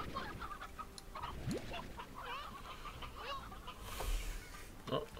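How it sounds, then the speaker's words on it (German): Chickens clucking in the video game Slime Rancher: several quiet, scattered clucks and squawks over a soft ambient backdrop, with one louder call near the end. "Gucken wir mal hier bei den Hühnern."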